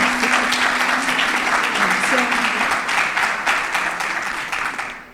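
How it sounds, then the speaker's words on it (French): An audience at a panel discussion on circular economy breaks into sustained applause that fades toward the end, with a voice speaking over the clapping. "Alors le projet ça mérite des applaudissements hein"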